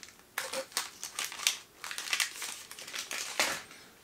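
Thin plastic wrapping film crinkles and rustles in a close, irregular run of bursts as it is handled and cut near its end, with sharper crackles now and then.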